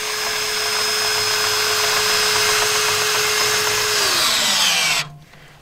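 A regular corded-style drill drives a scissor jack to level a bus, a loud steady whine that holds for several seconds, then drops in pitch and cuts off near the end.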